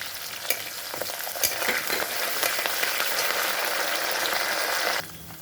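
Green chillies and curry leaves stir-fry in a hot pan, giving a steady close-up sizzle with scattered crackles and spatula scrapes that runs without a break and then drops off near the end.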